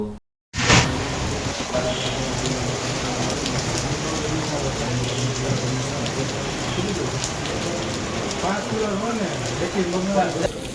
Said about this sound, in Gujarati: શહેરમાં બપોર બાદ અચાનક વાતાવરણમાં પલટો આવતા બરફના કરા સાથે વરસાદ વરસ્યો